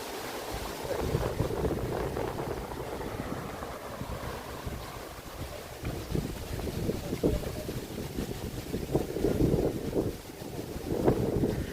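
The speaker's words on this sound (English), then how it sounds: "There's that wind picking up again" Wind rising on a Toronto city street, a steady broad rush of gusts buffeting the microphone with continuous low rumble throughout, no talking.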